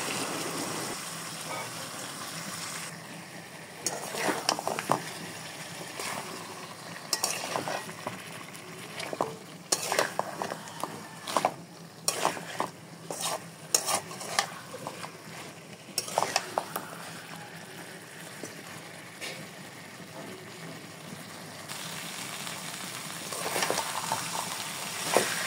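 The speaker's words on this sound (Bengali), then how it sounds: "চিকেনটা দিয়ে এবার খুব ভালো মতো সব একসাথে আবার ভেজে নেব।" Marinated chicken fries with browned onions in a pan, giving a continuous soft sizzle broken by repeated scraping and clacking stirs of a spoon, with no voices.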